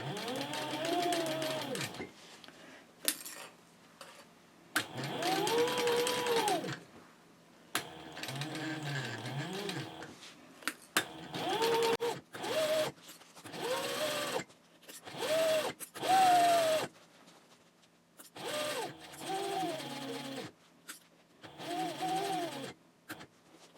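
A sewing machine stitches the exterior gusset of a handbag in repeated bursts of rapid mechanical whirring, separated by brief pauses, with a voice talking intermittently between the runs.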